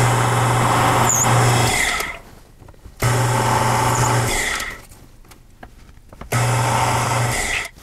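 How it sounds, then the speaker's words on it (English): A power drill drilling wood pieces whirs in three steady bursts of about two seconds each, separated by short pauses, close and fairly loud. "I'm going to go ahead and drill them all up"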